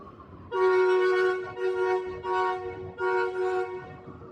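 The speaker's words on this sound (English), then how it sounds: "EMU service now arriving." A Queensland Rail EMU electric train pulls into a station platform, giving a loud tonal hooting drone in several sustained bursts with short breaks, heard close and alone.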